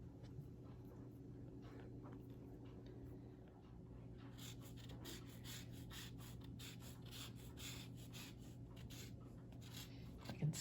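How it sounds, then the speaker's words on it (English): Lemon zest rasped on a grater in a home kitchen while making blueberry pie, a run of quick scratchy strokes from the middle of the clip onward over a steady low hum, fairly faint. "Now I'm gonna grate this lemon."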